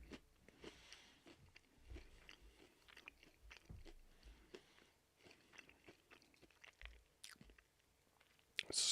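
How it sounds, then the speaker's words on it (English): Someone chews peanut butter pretzels close up, with soft crunching bites and wet chewing in an irregular rhythm over a quiet room, a louder crunch at the very end. "I'm eating peanut butter pretzels, and there's probably about 20 of them left"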